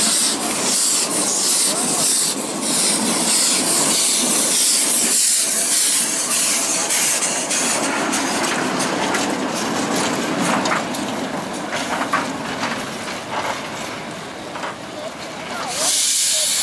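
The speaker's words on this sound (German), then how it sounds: "Die Dampflok setzt sich an die Spitze des Zuges und drückt die Wagen zurück an den Bahnsteig." A steam locomotive shunting carriages at a station on the line to Bad Orb lets out a long, loud, steady hiss of steam with faint rubbing rail noise, and voices can be heard beneath it.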